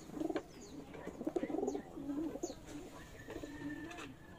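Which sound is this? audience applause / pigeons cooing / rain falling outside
pigeons cooing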